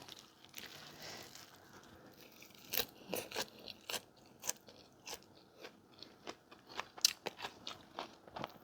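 A crunchy dish is eaten close to the microphone, with quiet, rapid bites and crunching chews repeating in an uneven rhythm and no talking.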